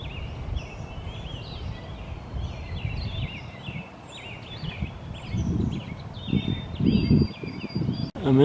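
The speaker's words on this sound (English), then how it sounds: "Listen to the robins sing." Robins sing in a park field on a rainy morning, a series of bright warbled phrases heard at moderate distance over rustling, footsteps and low background noise.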